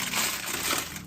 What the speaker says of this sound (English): Peel that paper off.